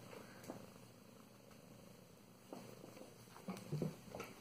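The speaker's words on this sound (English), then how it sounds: "He's purring. The whole time he's purring." A cat purring close by, a soft continuous low rumble that runs steadily through the stretch with a few faint rustles and light handling sounds near the end.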